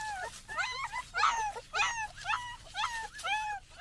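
A litter of puppies in a wire kennel gives a run of high, thin whimpers and yips, about seven in a row at a steady pace, close by and fairly faint.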